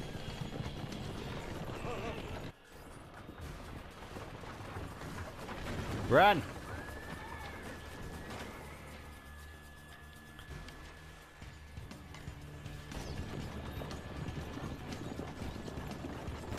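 Horses gallop with clip-clop hooves in the video game Assassin's Creed II during a fiery bridge escape, a steady rapid beat under excited talk, with a brief neigh near the middle.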